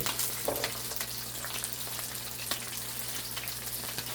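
Garlic fries in a pan for Jamaican fried herring (sprat), giving a continuous crackling sizzle with scattered sharp pops and a low steady hum underneath.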